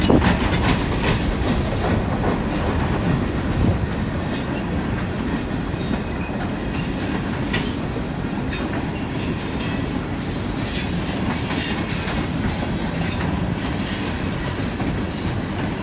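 A long freight train rolls steadily past a railroad crossing at close range, wheels rumbling and clacking over the rails with occasional metallic squeals, continuous for the whole stretch.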